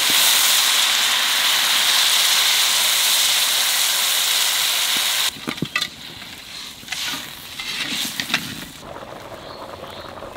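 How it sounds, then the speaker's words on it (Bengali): Water poured into a pan of frying magur catfish for a potato curry sets off a loud, steady hiss for about five seconds, then it drops to quieter bubbling with a few clinks and stirring sounds. "মাছ একটু কষায় নিছি, এখানে জল দিয়ে দেবো।"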